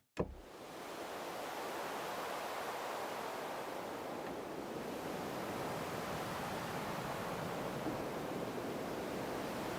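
Wind effect from a Punch-2 synthesizer, a continuous broad rushing whoosh that swells in after a brief click and holds steady throughout, fairly quiet with no voices.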